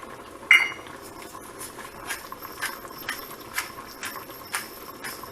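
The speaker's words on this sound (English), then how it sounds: "A couple grinds of pepper." A pepper grinder turned by hand: a quick series of short dry crunching twists at a steady rhythm after one sharp clink, close and quiet, with no talking.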